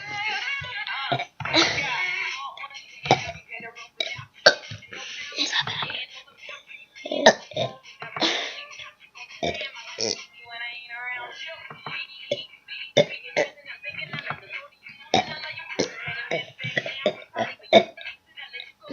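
People imitate burps with their voices, a run of short croaky gulps and throaty belches scattered irregularly, mixed with whispery breaths and brief sounds like throat clearing, close and dry.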